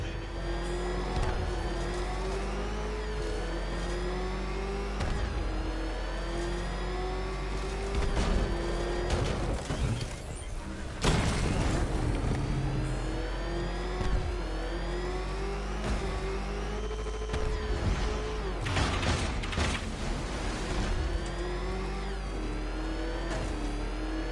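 The Batmobile engine in Arkham Knight revs and roars steadily, rising and falling in pitch as it accelerates through a long, loud run with a brief surge midway.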